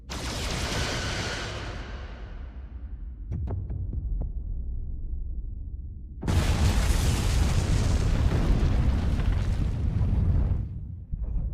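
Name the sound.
photon torpedoes exploding in Star Trek Resurgence video game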